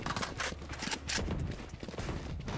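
Rapid bursts of Vandal rifle fire in Valorant-style tactical shooter play, sharp repeated shots crackling close and loud in quick succession with no talking.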